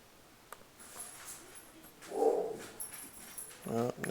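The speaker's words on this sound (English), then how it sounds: "now my dogs are acting up." Indoor dogs barking and whimpering, a short whiny yelp midway and a couple of sharper barks near the end, fairly close but not loud, against a quiet room background.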